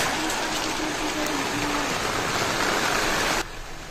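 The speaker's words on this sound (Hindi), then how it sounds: "बारिश हो रहा है और अंदर में ऊपर हवा है" Steady rain falls at a home under construction, a dense, even hiss that holds loud and constant before dropping off sharply near the end.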